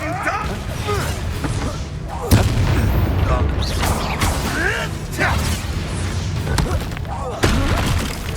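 Spell explosions from Hogwarts Legacy combat burst repeatedly in loud, heavy booms and crashes, several sharp impacts landing every second or two, with a player shouting spell incantations among them.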